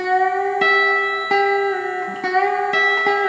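An electric guitar plays a pedal-steel-style lick of bent notes on the third and the root over E, several sustained, gliding tones picked in sequence, close and clean without speech.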